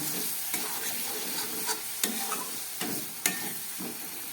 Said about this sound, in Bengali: এবার কাঁচা লঙ্কা দিয়ে ভালো করে একটু কষিয়ে নেব